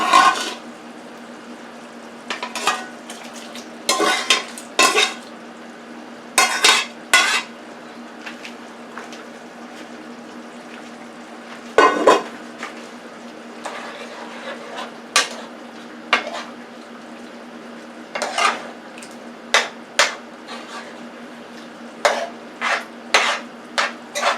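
Beef is added to gravy in a Power Pressure Cooker XL, with repeated clinks and scrapes of a utensil against the metal pot, bursts of clatter separated by quiet pauses under a low steady hum.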